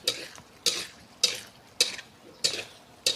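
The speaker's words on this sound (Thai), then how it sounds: "ผัดคลุกเคล้าให้เข้ากันค่ะ" Instant noodles stir-fried with canned fish, a spatula scraping and tossing in rhythmic strokes about every half second, with a soft sizzle underneath.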